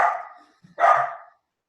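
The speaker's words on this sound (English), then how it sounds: "my dog's just barking in the background" A dog barks twice nearby in a home, two short loud barks spaced about three-quarters of a second apart, with nothing else audible.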